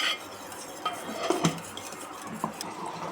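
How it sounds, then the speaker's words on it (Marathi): A spoon stirring gram flour (besan) into buttermilk in a pot for kadhi, with soft scraping swirls and a few light metallic clinks against the vessel, close and alone. "बेसन पीठ यात चांगलं मिक्स करून घेतलं आहे"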